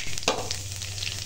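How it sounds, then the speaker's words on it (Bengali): Black cumin seeds hit hot mustard oil in a kadai and crackle into a bright, continuous sizzle with a few sharper pops, close and fairly loud throughout. "কড়াই সরষের তেল দিয়েছি, তেল গরম হয়ে গেছে, এখন কালো জিরে ফোড়ন দিয়ে দিলাম।"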